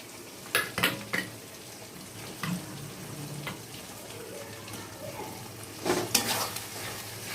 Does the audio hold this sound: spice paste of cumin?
yes